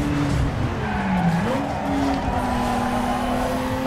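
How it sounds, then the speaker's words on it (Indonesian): A Mazda RX-7 Veilside racing at night in Need for Speed Underground 2, its engine droning steadily while tires squeal and skid in a sustained, close, loud drift. "Kita pakai mobilnya Han ala-ala Tokyo Drift di NFS Underground malam-malam."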